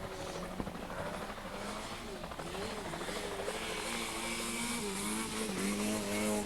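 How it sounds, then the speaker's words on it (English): Rally cars race around a short circuit rally course at the Brentwood Centre, engines revving and changing pitch continuously, with a commentator talking over the steady roar. "it's certainly Longhurst in car number 1, Dave Longhurst"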